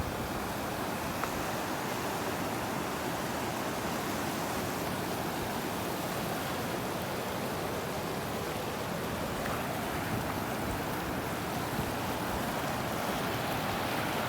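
A tidal bore surges up a river as a continuous, dense roar of rushing, churning water, steady and fairly loud throughout with no clear voices.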